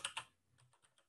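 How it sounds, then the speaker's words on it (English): Computer keyboard keys tapped a few times in quick succession, faint and close, with two sharper clicks followed by lighter, evenly spaced taps. "Are you all just like typing dots?"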